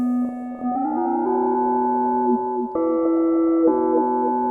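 A Yamaha Reface CS virtual analog synthesizer plays sustained tones with a delay effect, notes gliding and stepping between pitches, the repeats trailing softly behind each change; no one speaks.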